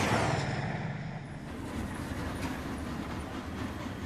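A train rushes past as a sound effect, a steady loud rumble with rolling rail noise that stays constant throughout.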